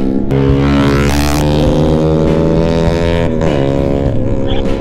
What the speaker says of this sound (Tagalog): Lalakas ng motor niya.